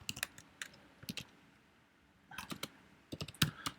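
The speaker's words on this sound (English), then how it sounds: "If I can type correctly." Typing on a computer keyboard while setting up Python examples during a lecture, with quiet close clicks in short irregular bursts separated by brief pauses.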